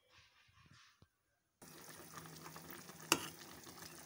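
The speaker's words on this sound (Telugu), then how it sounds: "ఉడకడం కూడా బాగా ఉడుకుతుంది." A pot of Katta fish curry boils with a steady, fairly faint bubbling hiss that starts abruptly after a quiet, scrappy opening and has one sharp click partway through.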